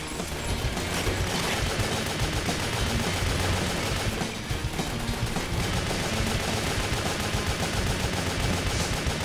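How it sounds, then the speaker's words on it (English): Dense, loud machine gun fire and overlapping gunshots rattle continuously in the action video game Wet, forming a busy fusillade with no talking. "Oh, there's a machine gunner too"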